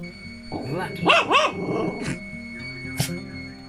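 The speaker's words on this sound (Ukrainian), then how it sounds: "М'ячик опусти, гавкни нормально." A dog gives a couple of short, sharp barks followed by a softer yip, close to the microphone, with a person speaking around them.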